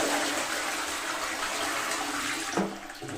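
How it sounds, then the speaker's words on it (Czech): A toilet flushes in a home bathroom while its cistern flush mechanism is being replaced. Water rushes steadily and close by, then surges briefly near the end as the flow drains and changes. "spláchneme záchod úplně"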